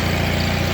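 A John Deere 316 garden tractor engine plowing snow, a brief, steady, loud, close idling rumble with a pulsing low throb.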